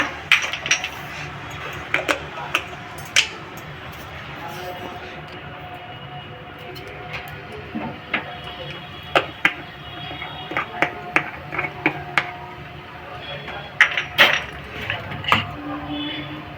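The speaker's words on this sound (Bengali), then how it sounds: "একটু কালো জিরে ফোড়ন দেব" Nigella seeds (kalo jeere) tempering in hot oil for a home-style Bengali pointed gourd dish, giving a steady close sizzle broken by scattered sharp pops and utensil clinks.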